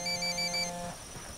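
A cellphone rings in the Ghost Recon video game, a clear electronic ringtone tone repeating in short pulses before cutting off, fairly quiet with no talk over it.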